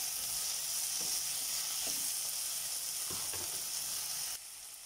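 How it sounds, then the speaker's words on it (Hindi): Onions, capsicum and chopped tomato sizzle in a hot pan for a paneer burger filling, a loud, even frying hiss broken by a few soft clicks of stirring. "अब हम इसमें टमाटर ऐड कर लेते हैं। मैंने आधा टमाटर लिया है और इसको अच्छे से मिला लेते हैं।"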